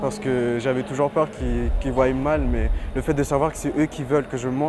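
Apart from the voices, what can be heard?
None of the usual background noises is heard.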